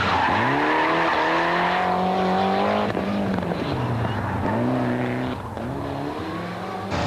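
Rally cars blast along a short stage, with a loud engine revving up and down through repeated gear changes, bursts of acceleration and some skidding, heard close.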